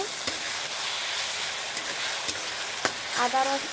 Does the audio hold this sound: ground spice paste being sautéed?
yes